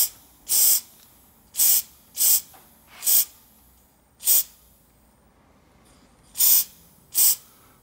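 Compressed air from a workshop airline blasts through a port on the carburettor of a Triumph Daytona 1200 motorcycle, seven short loud hissing bursts with brief quiet gaps between them, no talking.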